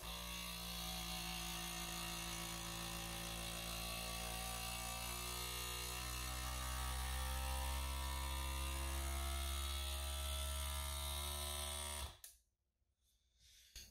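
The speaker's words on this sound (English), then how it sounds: "we're just hitting the vacuum button on the FoodSaver" A FoodSaver vacuum sealer pump drones steadily and loudly for about twelve seconds while drawing air from a mason jar, its tone rising slightly, then cuts off abruptly into near silence.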